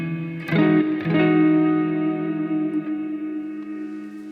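A guitar run through the Soulful Verb reverb setting of a JBL Bandbox Solo, with two strummed chords whose rich sustained tones ring out and fade slowly into a long, lingering reverb tail, playing alone.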